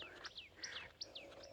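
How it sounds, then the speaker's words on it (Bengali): Small birds chirp in a quiet casuarina grove beside Bagda sea beach, quick rising and falling tweets repeating in a faint, steady chorus. "পাখির ডাকও শোনা যাচ্ছে।"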